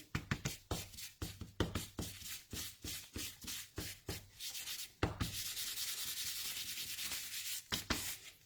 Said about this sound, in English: is just rub the embossing body all over, particularly between the strips